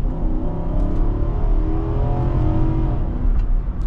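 A 2024 Infiniti QX80 with a 7-speed automatic in manual mode accelerates hard, its engine note loud and close, holding a steady, rising drone throughout.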